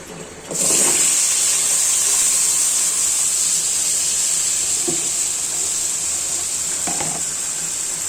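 Bottle gourd is tipped into a hot pan with spices, setting off a sudden loud burst of hissing steam that holds as a strong, steady hiss with a few faint clinks, close and uninterrupted by speech.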